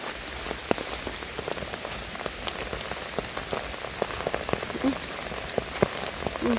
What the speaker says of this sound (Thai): อุ้ยฝนตกพี่น้องจ้า ฝนตกฝนตก